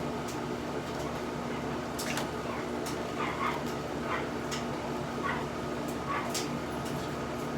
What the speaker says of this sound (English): My dogs are trying to eat something.